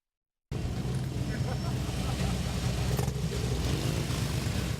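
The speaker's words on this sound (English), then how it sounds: "Motorcycle engines revved as the Veterans Club of Guam escorted the Marines and their truck full of toys" Several motorcycles rev and rumble while a veterans motorcycle club on Guam escorts Marines and a truck full of donated Christmas toys, the engines loud and steady from just after the start with crowd voices mixed underneath.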